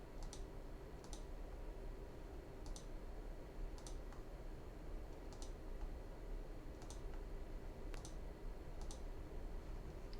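Computer mouse clicks made while working in 3D Slicer software: about a dozen crisp, small clicks come at irregular intervals of roughly a second, close and faint, over a quiet room hum with no speech.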